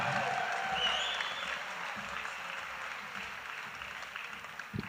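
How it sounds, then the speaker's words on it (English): Crowd applause and cheering for the athletes at the Special Olympics Alberta Winter Games opening ceremonies in Strathcona County, a broad, fairly faint wash of clapping that slowly tapers off. "One more cheer for the athletes."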